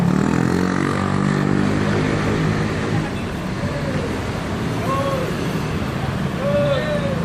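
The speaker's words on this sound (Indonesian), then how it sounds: "Inilah bis ANS yang berangkat pagi ini" An ANS Grand Tourismo bus on a Morodadi Prima body pulls away in the morning under steady, loud road and engine noise, with a few higher tones rising over the rumble.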